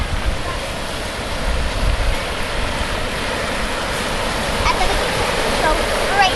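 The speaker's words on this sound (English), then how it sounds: "We're right next to this Bear River." The Bear River rushes past close by, a steady broadband wash of flowing water, with people talking faintly over it.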